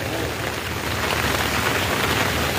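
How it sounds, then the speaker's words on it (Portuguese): Heavy rain pours down without a break, a dense, loud, steady hiss of drops striking surfaces nearby, with no voices. "E a chuva não para."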